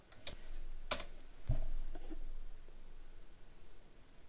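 A computer keyboard typed on during a library database search: a few sharp clicks in quick bursts near the start, then a softer tap, with quiet room noise between strokes.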